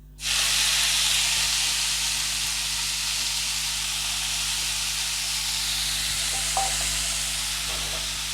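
Manathakkali greens dropped into hot oil burst into a loud, steady sizzle that settles into a continuous frying hiss, close by and without voices.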